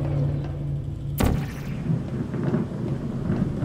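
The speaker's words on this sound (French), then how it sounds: "Ah, l'orage." Sudden crack of thunder from a thunderstorm in Portal 1 bonus levels, a sharp loud burst that rumbles away, over steady background game ambience.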